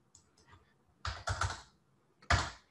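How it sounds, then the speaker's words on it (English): Keystrokes on a computer keyboard entering image dimensions: a few soft taps, then a quick burst of clicks and a final sharp key press, close up with no voices. "just type in 800 by"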